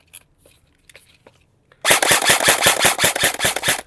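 An E&C airsoft AEG fires a sustained full-auto burst of rapid, loud, evenly spaced cracks close by, following a couple of seconds of faint quiet handling noise.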